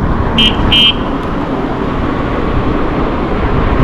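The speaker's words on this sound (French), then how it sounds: "On va tester le klaxon." Two short, shrill electronic horn beeps from a Circooter M2 48V electric scooter in quick succession over steady street traffic noise.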